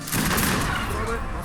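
Rapid artillery barrage from massed cannons in the real-time strategy game Age of Empires 3, a dense, continuous rumble of overlapping blasts and battle noise filling the whole moment at steady loudness.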